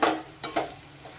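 Red chili powder and coriander-cumin powder being stirred by spoon into a spiced mixture for stuffed leftover-roti patra, with three brief scraping strokes over a quiet background.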